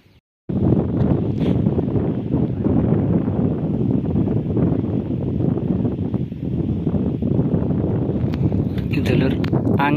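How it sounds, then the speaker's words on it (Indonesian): Strong wind on the Semeru volcano roars steadily into the microphone, a loud, unbroken buffeting rush that fills the whole stretch after a brief quiet start. "Dulur, angin cukup kencang sekali ya. Angin cukup kencang sekali."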